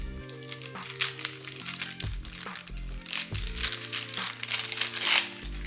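Plastic packaging around an inexpensive plastic ring with fake flower inclusions crinkles and crackles in short, close bursts as it is pried open, rustling unevenly for several seconds.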